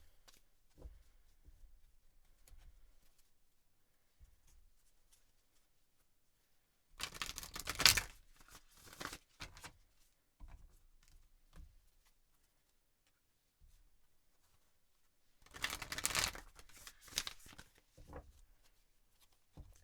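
Tarot cards being shuffled in two short bursts of rapid riffling and flapping, near but soft, separated by long stretches of quiet with faint handling noises.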